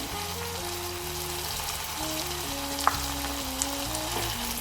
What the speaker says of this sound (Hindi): इस पेस्ट में हम इसको थोड़ी देर अच्छे से भून लेंगे